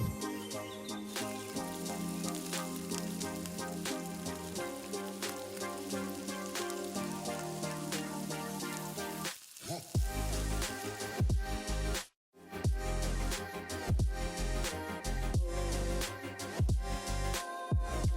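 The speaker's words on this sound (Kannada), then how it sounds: "ಈಗ ಒಗ್ಗರಣೆಗೆ 2 ಟೊಮೆಟೊನ ಸೇರಿಸ್ಕೊತಾ ಇದ್ದೀನಿ. ಅದನ್ನು ಸಹ ಮೆತ್ತಗಾಗೋವರೆಗೂ ಚೆನ್ನಾಗಿ ಫ್ರೈ ಮಾಡ್ಕೊಬೇಕು." Two tomatoes frying in hot tempering oil for chicken dum biryani give a continuous crackling sizzle like light rain, which stays steady under loud background music and drops out briefly near the end.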